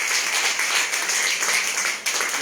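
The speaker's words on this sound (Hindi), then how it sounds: "विकास भाई के लिए एक बार जोरदार ताली होनी चाहिए।" Loud, dense applause from an audience at a motivational seminar, continuous steady clapping filling the whole moment without a break.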